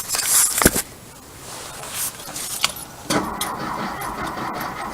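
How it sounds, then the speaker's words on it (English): A 1700 VW bus engine cranks over for a compression test. Sharp clanks come first, then a steady, grinding cranking noise runs continuously from about the midpoint to the end. "I'm going to turn the motor over"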